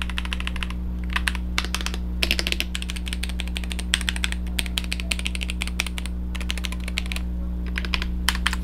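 Someone types quickly on a computer keyboard, making dense bursts of close clicking keystrokes with brief pauses over a steady low hum.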